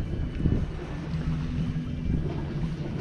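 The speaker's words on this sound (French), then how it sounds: "Très utile celui-là, le fameux ferry grec." A Greek ferry passes at sea near Corfu, heard from a sailboat as a steady low rumble blended with gusting wind noise on the microphone.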